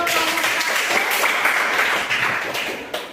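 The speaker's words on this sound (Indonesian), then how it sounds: "kita berikan aplaus untuk" A classroom audience applauds a presenting student group with dense, steady clapping that holds at full strength and then starts to thin toward the end.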